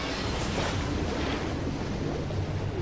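Water in the Call of Duty Black Ops 3 video game, a continuous washing, surf-like rush with a windy hiss, steady and moderately loud, with no voices over it.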